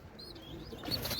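In a loft of desi pigeons and their chicks, thin chirps and soft cooing come faintly from close by, growing busier toward the end, with a brief flutter of wings.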